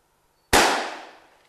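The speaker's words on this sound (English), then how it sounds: "try and burst this balloon with a single nail" A rubber balloon bursts with one sharp, loud bang after silence, popped with a single nail during a science demonstration, the crack decaying over about a second.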